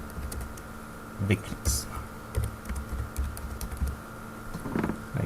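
Rapid, uneven typing on a computer keyboard while entering road-design values in Civil 3D, close and clear, with someone speaking over the clicks.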